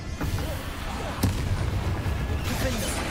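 Booming blasts from the Confringo fire spell in the video game Hogwarts Legacy, several thumping impacts in quick succession amid combat with Inferi, dense and near with a muffled rumble underneath.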